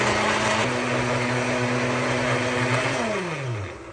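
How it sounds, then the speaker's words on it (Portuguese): An electric blender whirs loudly and steadily as it purées eggplant with water, the motor's pitch shifting slightly before winding down and stopping at the end. "E já está batido o nosso suco de berinjela."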